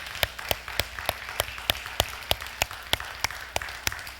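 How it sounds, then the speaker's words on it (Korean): A church congregation claps in thanksgiving, producing about fourteen sharp, evenly spaced claps in unison at a steady, quick rhythm over a quiet room. "우리 하나님께 우리 감사의 박수를 드리겠습니다"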